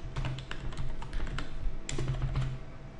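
Someone types a message on a computer keyboard, with quick clicking keystrokes at close range in brisk, uneven bursts and no voice over them.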